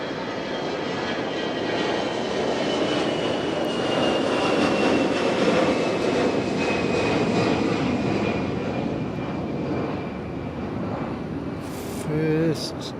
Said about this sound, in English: I love this little aircraft